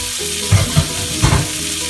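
Small cherry tomatoes fry in a hot pan for shakshuka, giving a steady loud sizzle with a few bubbling pops and light stirring knocks.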